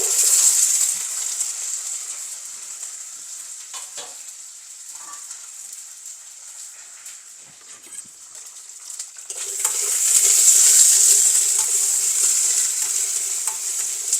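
Curry leaves, green chillies, chopped garlic and shallots sauté in hot oil, giving a steady close sizzle that softens mid-way amid stirring, then swells loud and crackling again toward the end.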